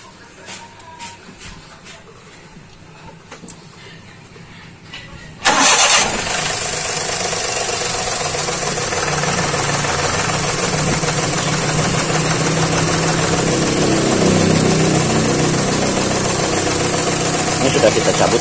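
A Daihatsu Xenia with a P0303 misfire code sits quietly with a few clicks before the starter cranks and the engine fires abruptly, then idles loudly and steadily, with a faint rough unevenness, until the end.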